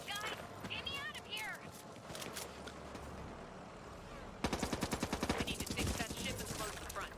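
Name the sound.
gunfire from the video game Back 4 Blood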